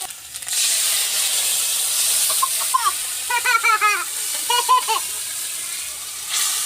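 Tomato paste hits hot oil already frying with ginger, garlic and onion, making a broad steady sizzle that lasts throughout, with brief chirping bird-like calls rising above it midway.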